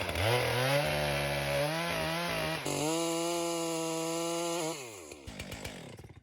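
A chainsaw cuts a conventional undercut into a tree, its engine holding a loud, steady whine under load that shifts pitch partway through, then drops away into a few ragged idling pulses at the end.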